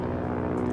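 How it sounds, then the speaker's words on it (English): A propeller airplane drones steadily overhead in the wolf-simulation game WolfQuest, a continuous engine hum heard alone with no talk. "You can actually hear an airplane, and that is a special feature that the radio collar gives"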